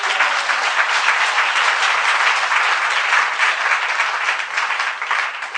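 An audience at a church vigil applauds loudly and continuously, dense clapping with no break.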